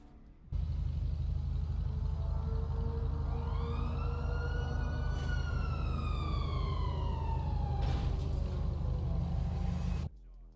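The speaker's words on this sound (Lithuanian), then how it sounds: "Sirenas girdžiu greičiau." A video game siren wails in a single long rising and falling sweep over a steady low engine drone, with a couple of sharp bursts mixed in.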